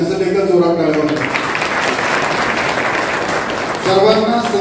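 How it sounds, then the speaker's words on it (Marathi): An audience at a gathering applauds a poet with steady, loud clapping that fills the hall for several seconds, and a voice speaks briefly at the start and the end. "त्यांच्यासाठी एका जोरात टाळ्या वाजवा."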